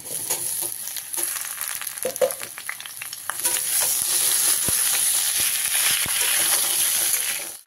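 Raw tomato lands in a pan of reddened fried potatoes, setting off a close, steady sizzle and hiss that grows louder and denser, with scattered clinks and scrapes of stirring and no talking.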